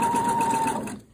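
A sewing machine runs steadily, stitching the seam of an invisible zipper, its close motor hum and rapid needle rhythm continuing for about a second before stopping abruptly.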